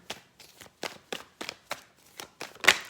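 A series of soft, quick shuffling bursts from tarot cards shuffled in hand, about nine taps in a loose steady rhythm, close up and quiet, with no talking.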